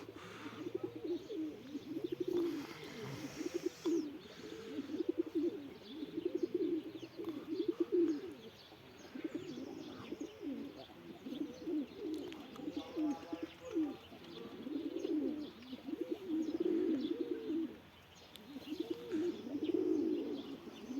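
Pigeons coo in a steady, repeating rhythm of soft, low, rolling calls across about twenty seconds, close by but fairly quiet, with faint chirps and background hiss.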